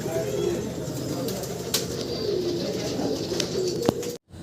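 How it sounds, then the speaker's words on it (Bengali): Pigeons coo softly in a large flock at a farm, low repeated calls overlapping, with a few faint clicks and rustles around them. "হিউজ পরিমাণ কবুতর এগুলো খাঁচার বাইরে সব"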